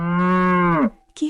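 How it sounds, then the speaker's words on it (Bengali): A cartoon calf moos in fear, one long, loud, tonal bellow that holds steady and then bends downward before fading, followed by a brief softer call. "এবং ভয়ে হাম্মা হাম্মা করে ডাকতে থাকে।"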